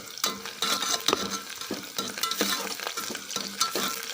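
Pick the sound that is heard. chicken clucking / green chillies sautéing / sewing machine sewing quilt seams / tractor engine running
green chillies sautéing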